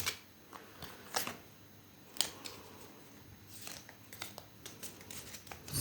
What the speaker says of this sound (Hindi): सॉरी, एक लास्ट शफल ले लेते हैं।